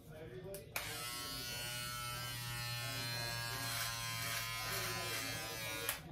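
A Braun 6-in-1 electric shaver switches on and runs with a steady, close, high-pitched buzz that holds for several seconds before it clicks off near the end.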